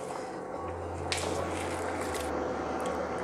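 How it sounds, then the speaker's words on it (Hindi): Rice is tipped into a pot of boiling water for vegetable pulao, a short wet squishing pour over a steady background bubble and hiss. "अब हम डाल देते हैं इसमें चावल।"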